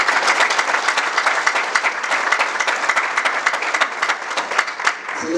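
Sustained audience applause at a fundraising talk, a dense steady patter of many hands clapping throughout, fairly loud and continuous without a break.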